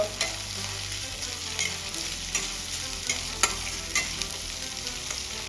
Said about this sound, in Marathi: इथे आपल्याला ही पेस्ट पण छान परतून घ्यायची आहे याचा कच्चापणा निघून जाईपर्यंत